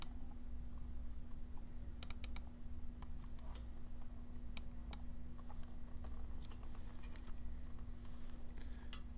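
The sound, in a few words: computer mouse clicking a button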